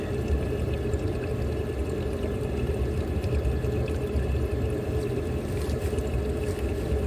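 Water flushing out of an outdoor spigot while clearing rust and clog debris from a gas furnace line, a steady, loud rushing pour that runs unbroken with no speech.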